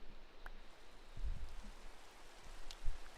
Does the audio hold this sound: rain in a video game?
yes